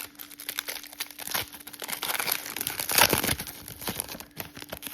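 A foil pack of 2024 Mosaic football trading cards being torn open up close, with crisp crinkling throughout and a sharper rip near the middle.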